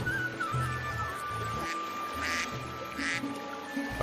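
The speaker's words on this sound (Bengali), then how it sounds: "আমার এই হাঁসের দিকে একবার তাকিয়ে দেখ, দেখেছিস?" Cartoon duck quacking in a short, near, voiced run of nasal calls with brief pauses, followed by a couple of isolated quacks against a busy animated backdrop.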